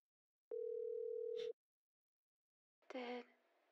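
In a horror video game, a phone gives one steady electronic dial tone lasting about a second, clean and clear, followed after a pause by a short burst of another game sound.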